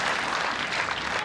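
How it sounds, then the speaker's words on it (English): Spectators at the women's pairs final of the 2024 Australian Open in lawn bowls applaud a shot, a dense, steady burst of clapping from a crowd. "Appreciation from the crowd watching on"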